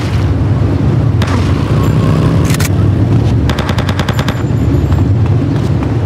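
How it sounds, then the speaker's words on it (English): Loud gunfire in the game GTA Vice City Stories, with dense, rumbling action broken by a quick volley and then a rapid machine-gun burst of evenly spaced shots. "Yeah, that's right, it's a gun."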